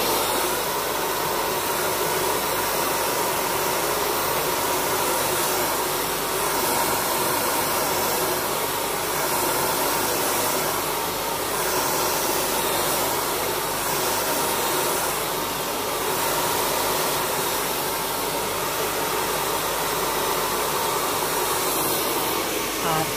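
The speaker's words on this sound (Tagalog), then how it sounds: "magbo-blower tayo ng ating hair." A hair dryer blows continuously with a loud, steady whooshing hiss and motor whine, close by and uninterrupted throughout.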